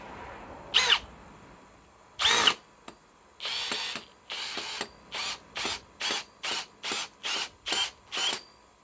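A Milwaukee M12 Fuel cordless drill straining under heavy load, heard in a couple of isolated bursts and then a steady train of short, evenly spaced whirring pulses, loud and close with no talk.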